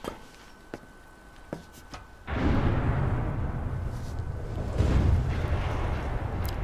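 A C4 charge detonates in Metal Gear Survive, a sudden loud blast followed by a long, rumbling roar that swells again, after a few sharp clicks and knocks in a quiet space.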